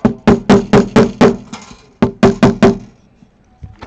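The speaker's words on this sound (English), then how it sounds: "Love hitting a guitar with a hammer." Sharp hammer taps ring out against a travel guitar on the repair bench, about a dozen close, loud knocks in two quick bursts with a short pause between.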